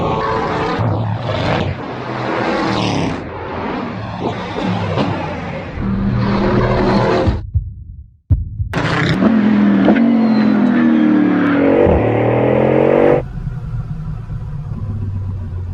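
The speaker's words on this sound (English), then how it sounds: "This car accelerates like nothing else I've ever experienced" Bugatti Bolide hypercar accelerating hard on a track, a loud roaring engine climbing through revs with a brief sharp break at a gear change before surging again, then fading to a lower rumble.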